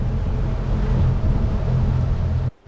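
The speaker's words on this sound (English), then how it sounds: "listen to the engines wind up, and we hit 31 knots" Boat engines run hard at speed toward 31 knots, a loud, steady broadband roar with heavy low rumble and rushing water that holds almost unbroken, then drops out abruptly near the end.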